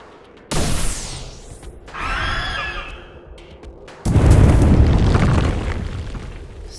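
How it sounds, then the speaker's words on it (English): Plasma rifle fire in a science-fiction audio drama, a burst of loud blasts and booms with a whining sci-fi charge-up tone between them, up close and without talk. "Plasma rifle it is."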